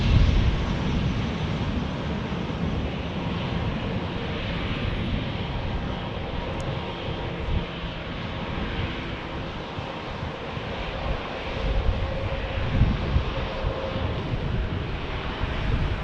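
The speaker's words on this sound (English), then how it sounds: "we've got United getting ready to take off to Chicago O'Hare" A United airliner takes off from San Diego airport, bound for Chicago O'Hare, with a steady broadband jet engine roar holding for the whole stretch under light wind noise, and no voices.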